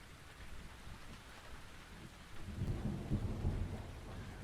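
Steady rain pours in the Victorian murder-mystery game The Invisible Hours, a faint continuous hiss that swells louder midway with low rumbling thunder underneath.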